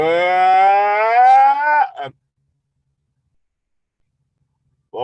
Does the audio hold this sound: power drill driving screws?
no